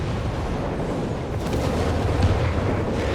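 Nebelwerfer rocket artillery barrage in Company of Heroes 3, a dense continuous rumble of launches and blasts that grows heavier midway, loud and close, with no talk.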